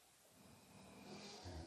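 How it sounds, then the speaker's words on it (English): A couple of dogs snore together indoors, soft rhythmic breaths very faint and distant against a quiet room. "a couple of dogs snoring in unison"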